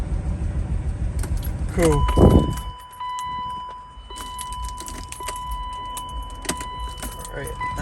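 Keys jangle, then a BMW E36 engine with a bad motor cranks and starts, running near and fairly loud with a few uneven revs, a brief word spoken over it.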